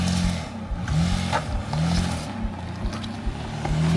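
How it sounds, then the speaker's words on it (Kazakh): A Lexus engine revs hard as the car climbs a steep slope off-road, the roar surging and dipping in repeated pushes with clattering underneath, close and loud throughout. "Давай, Lexus, давай."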